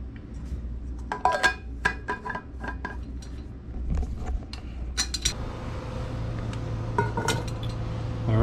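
A lid is fitted onto a thermos of coffee, giving close, irregular clinks, taps and small clattering knocks of hard material over a low steady room hum, with no talking.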